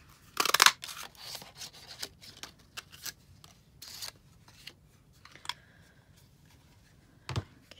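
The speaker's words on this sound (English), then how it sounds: "I'm going to cut this in half so that I can use it behind my Very Vanilla piece of cardstock" Scissors snipping powder pink paper in half at a card-making table, a loud burst of cutting at the start followed by softer scattered snips and paper rustles, close but quiet, with no talk.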